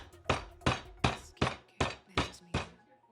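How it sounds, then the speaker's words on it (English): Hammer pounding a large piece of steak to tenderize it in a home kitchen, seven evenly spaced heavy thuds close by at a steady, deliberate pace. "so I'm tenderizing it with my hammer"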